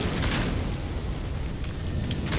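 A torpedo explosion in the Freelancer space combat game: a loud, sustained rumbling blast that fills the whole stretch with dense, roaring noise and no clear pauses.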